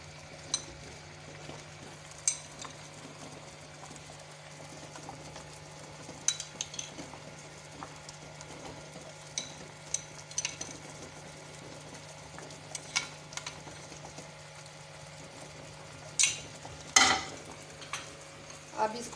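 Dal with fenugreek and cream simmering in a pan, a soft low bubbling under scattered light clinks and scrapes of a spoon stirring, fairly quiet and close, with no voices.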